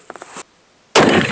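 A 7mm PRC rifle fires copper bullets at a thick 12 by 12 inch polyethylene panel. Faint small clicks come first, then a brief quiet, then one sudden, very loud, close blast that rings on.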